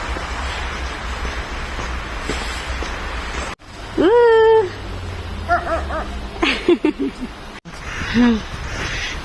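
A dog in a jacket at a snowy, foggy outdoor bazaar in freezing weather, giving high whimpers and short yips close by, with crowd noise and voices around it.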